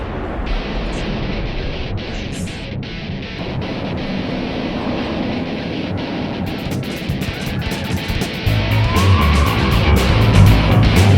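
The Montu roller coaster at Busch Gardens rumbles steadily along its track with rattling clatter and a rising roar, recorded loud and close from on the ride.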